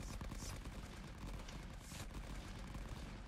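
Dense, continuous machine gun fire and volleys of rifle shots in the trench-warfare game Rising Front, a loud rattling barrage that runs nonstop with no pauses.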